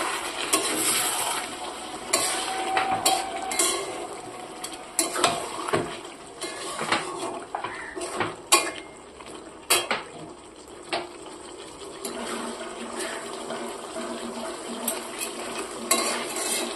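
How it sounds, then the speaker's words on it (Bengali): Chicken curry being stirred in a pan on the stove, a spoon scraping and clinking against the metal in irregular bursts over a faint sizzle, near and fairly loud, with no talking. "আর নাড়া দিয়ে দেখছি।"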